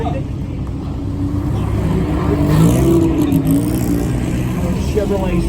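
A vintage Chevrolet Stingray race car rumbles past in a race car parade at Lime Rock, its engine note rising and falling as it nears and passes, with a voice talking over it.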